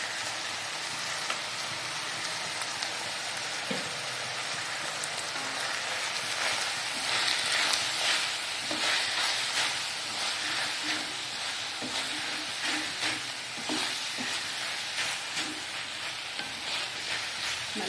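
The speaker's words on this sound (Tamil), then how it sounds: "நல்லா வதங்க விடுங்க. ஒரு 10 மினிட்ஸ் நல்லா வதங்கட்டுங்க." Brinjal with turmeric, sambar powder and chilli powder sautés in a pan, a steady close sizzle and crackle lasting throughout with occasional stirring scrapes.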